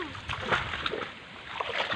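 A water buffalo in its muddy bathing pool, steady sloshing and splashing of water close by, continuous churning with occasional sharper splats, with people talking over it.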